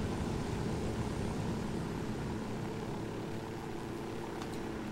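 A helicopter in Ghost Recon Wildlands drones loud and steady throughout, a dense continuous rotor and engine roar close by with no talk.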